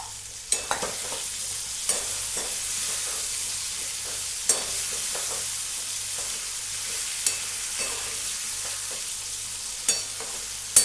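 Peanuts and brinjal frying in a pan under a constant, close sizzle, while a spatula scrapes and knocks against the pan at intervals of a second or two.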